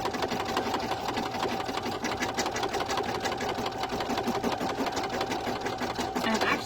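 An embroidery machine stitching through orange marine-style vinyl, a fast, steady, close mechanical chatter of the needle running without pause.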